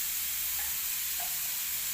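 Green chilli and coriander chutney tempering sizzles in hot oil as a steady, bright hiss, close and unbroken for a couple of seconds with no talking.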